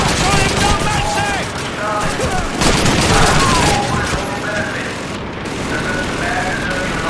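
Rapid bursts of gunfire and heavy booms from a tank and infantry battle in the World War II shooter Call of Duty 2, loud and continuous, with shouting voices mixed in.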